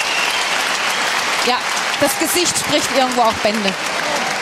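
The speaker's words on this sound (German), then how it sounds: "Beifall für die Killer Queen." Steady crowd applause fills a women's boxing match, continuous and loud throughout, with someone commentator talking over it.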